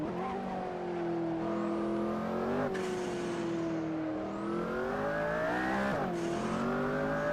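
A McLaren P1 in the racing game Assetto Corsa howls around Silverstone, its engine rising steadily in pitch under acceleration, with two sharp drops at gear changes before climbing again; loud, close and continuous.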